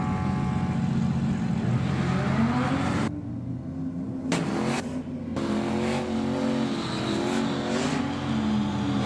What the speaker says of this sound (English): Burnout action